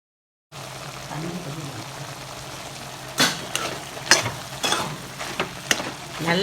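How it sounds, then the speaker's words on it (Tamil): Washed goat intestines sauté in a pan, sizzling steadily with frying crackle while several sharp scraping stirs break through at intervals. "குடல் அலசின குடலை இதில் போட்டு ஒரு வணக்கு நல்லா வணக்கிடணும்"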